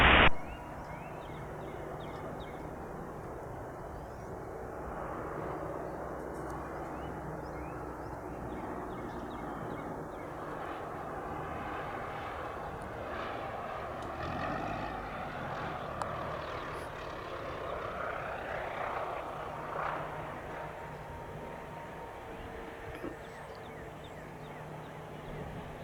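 A general aviation airplane lands at Spirit of St. Louis Airport, its engine a steady, moderately distant drone that swells slightly mid-way, with a brief knock at the start and no talk.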